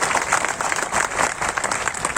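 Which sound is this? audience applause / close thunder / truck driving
audience applause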